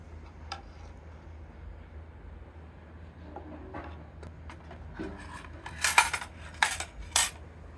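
Metal spoon scraping and clinking against dishes while serving daal chawal and haleem, quiet rubbing at first and then sharper, louder clatters toward the end.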